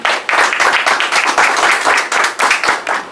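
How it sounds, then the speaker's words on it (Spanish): A crowd at a tribute to photographer Ruperto Miller in Panama claps loudly and close, the applause rising and falling in rhythmic surges over a few seconds, with no talking. "Un aplauso para Ruperto Villarroque."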